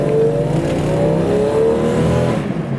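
A Jeep Cherokee Limited Sport XJ accelerates hard from about 15 to 40 mph, its engine note loud and close from inside, climbing steadily with a shift partway through.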